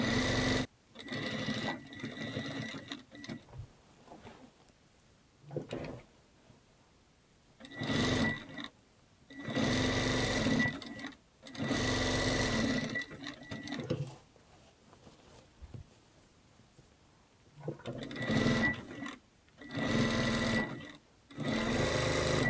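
A sewing machine stitches a linen apron in repeated bursts of rapid mechanical whirring, each run lasting a second or two and separated by quiet pauses, close and clear.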